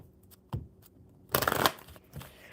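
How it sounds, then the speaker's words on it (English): A deck of cards shuffled during a casual card session, a short riffling burst about a second long preceded by a single snap of the cards, close and crisp against quiet. "One more good shuffle for you, my friend."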